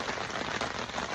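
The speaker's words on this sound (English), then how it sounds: "Rain just moved back in." Steady rain falling during a November deer hunt on private land, a dense, even patter of drops on nearby surfaces, constant and close with no talking.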